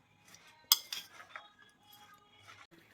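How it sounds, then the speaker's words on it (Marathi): A spoon scrapes and clinks against a bowl while mixing cabbage bake batter, with one sharp clink followed by soft, intermittent stirring. "आता हे सगळं एकजीव करायचं आहे आपल्याला."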